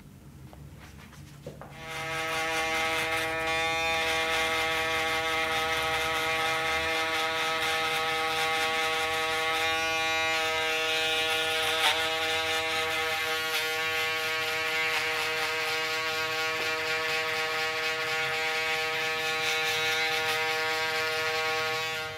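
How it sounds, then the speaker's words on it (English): An electric shaver switches on and buzzes steadily at close range, a constant high whirring hum that shifts slightly as it moves over skin. "Before shaving or using the shaver"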